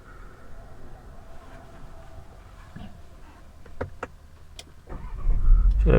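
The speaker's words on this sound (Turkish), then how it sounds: "frene bastığım gibi araç çalıştı. Yani sesini siz de duyuyorsunuz aracın." A 2020 Skoda Superb 1.5 TSI engine fires up near the end after a quiet stretch of faint cabin clicks and shuffles, rising into a loud, steady idle rumble close by.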